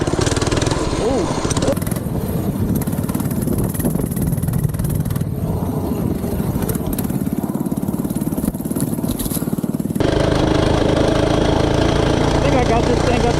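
An FRP GMB 100 retro mini bike engine runs loudly and close, a buzzing small-engine drone that rises and falls with the throttle and shifts tone partway through, with someone talking over it.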